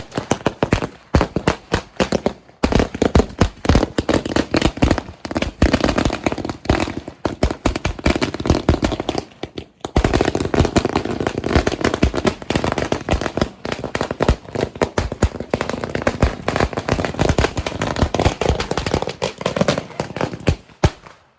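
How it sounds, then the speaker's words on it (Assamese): Diwali firecrackers bursting in a loud, relentless barrage of sharp cracks and pops, with one brief lull before the rapid volleys resume. "ফটকা ফুটালে যে সদায় সাৱধানে ফুটাব লাগে"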